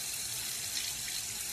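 Water runs steadily from a tap into a sink, a continuous even hiss of flowing water with no pauses, alone and close.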